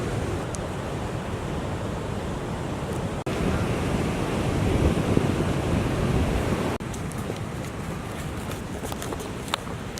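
Ocean surf rushes and breaks along the rocky shore of Blowing Rocks, Florida, a steady broadband roar throughout with wind buffeting the microphone and a couple of sharp cuts in the sound.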